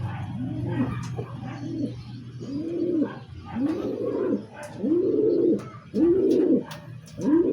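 Pigeons in a backyard loft coo repeatedly in a steady rhythm of low, rounded calls, fairly close and clear, with faint chirps above a constant low hum.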